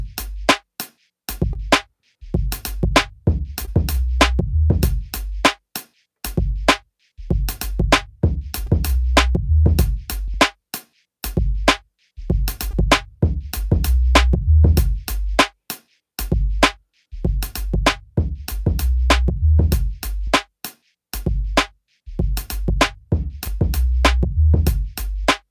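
A hip-hop beat played back as an audio track recorded on an MPC 1000 sampler, with punchy kicks and snares in a steady looping rhythm over heavy bass, loud and continuous.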